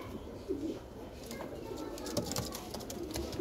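Soft coos from a Madrasi pigeon pair repeat quietly close by, low throaty calls mixed with faint rustling and a murmur of voices in the background.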